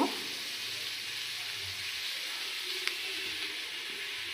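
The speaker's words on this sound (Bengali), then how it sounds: "এখন আমি আলুগুলো ভেজে নেব" Potatoes frying in a pan with oil, a steady close hiss and sizzle that holds evenly throughout with a faint clink near the end.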